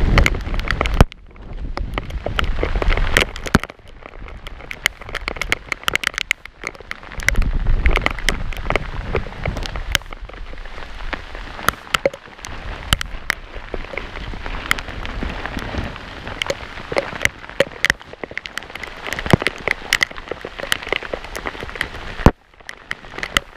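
Rain and hail pound down during a mountain storm at an elk hunting camp in Colorado, a dense, loud, continuous patter with sharp individual impacts and gusts of wind noise throughout.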